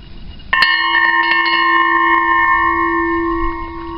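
A steel fire extinguisher cylinder struck once, ringing out like a bell with a sharp metallic attack and a long, steady sustained tone that slowly fades, with faint secondary taps early on and no voices.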